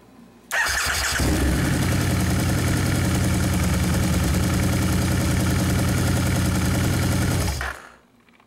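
A motorcycle engine fires up and settles into a steady, fairly loud idle for about seven seconds, then cuts off, with no talking over it.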